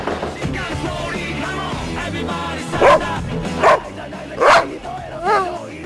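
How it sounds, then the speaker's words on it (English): A dog lets out four sharp, urgent barks at a steady pace, close by and loud, over a busy background. "your dog uses an alarm bark at a threat or intrusion"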